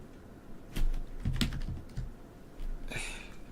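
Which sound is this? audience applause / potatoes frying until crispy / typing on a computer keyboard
typing on a computer keyboard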